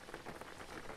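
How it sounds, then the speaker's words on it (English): Steady rain in the driving game Jalopy patters continuously over a car, a faint even hiss with no talk. "it's raining"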